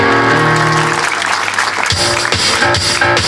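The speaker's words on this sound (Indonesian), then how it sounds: "tepuk tangan untuk Tuhan Yesus." Applause rises from a congregation at a church service honoring Jesus, dense and loud, layered over sustained music tones that carry throughout.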